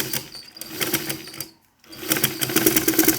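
A sewing machine stitches crinoline trim with a fast, steady mechanical whir. It stops briefly near the middle, then starts again, close and loud, with no voices.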